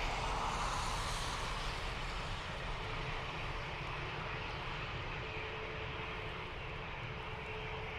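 British Airways Airbus A320neo jet departing Dublin Airport for London Heathrow, a distant steady engine roar with broad hiss that stays fairly even, heard alone without voices.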